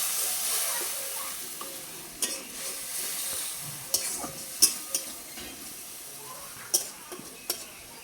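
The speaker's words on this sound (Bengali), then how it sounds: "হলুদ লঙ্কা গুঁড়ো এটাকে কষাতে হবে" Turmeric, chilli powder and salt frying in a pan for a silver carp fish curry, with a soft, steady sizzle and hiss and occasional sharp spoon scrapes and clinks.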